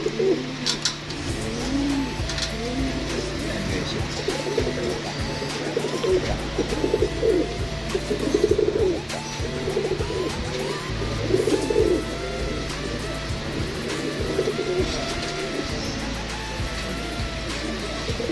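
Hybrid breeder pigeons coo in a soft, repeated chorus close by, with steady low background rumble and occasional chirps.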